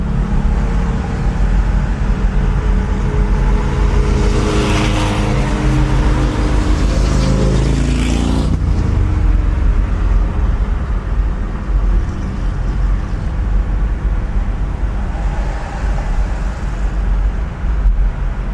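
A classic car cruises steadily down the road with a loud, continuous engine and road roar, rising briefly as it accelerates, with no talk.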